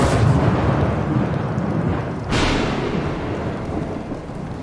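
Rain pours steadily with a heavy rumble of thunder throughout, plus a sharper crack midway, in the video game Bendy and the Dark Revival; loud and close, no voices.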